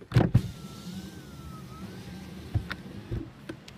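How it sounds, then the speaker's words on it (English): A car's electric power window motor hums steadily as the glass lowers during a stormy night with heavy rain, bracketed by a few thumps and clicks, close and fairly quiet, with no talking. "open up the window."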